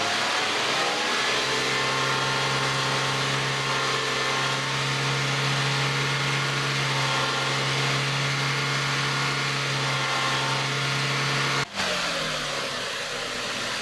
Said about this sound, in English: I'm going to hold up some revs by working the throttle with my hand